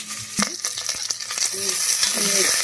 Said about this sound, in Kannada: ಸ್ವಲ್ಪ ಒಗ್ಗರಣೆ ಮಾಡ್ತೀನಿ ನೀರುಳ್ಳಿ ಹಾಕ್ತಿದ್ದೆ